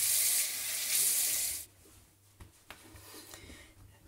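Tap water running into a sink during a rinse after a shave, a loud steady gush for about a second and a half, then cutting off to quiet drips and small splashes.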